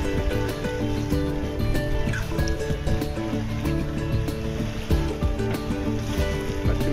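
Waves slosh and splash against the hull of a sailboat under way, with creaks and a steady low hum, close and continuous, water movement rising and falling irregularly.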